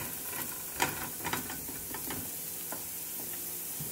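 Hash brown potatoes fry in olive oil and are stirred often, giving a soft, steady sizzle broken by light scraping stirs, fairly quiet and close.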